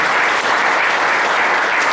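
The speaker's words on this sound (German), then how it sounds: "Beifall für die Damen" Audience at a German cabaret show applauding the women in the front row, a dense, steady burst of loud clapping from a full room, continuous for the whole moment.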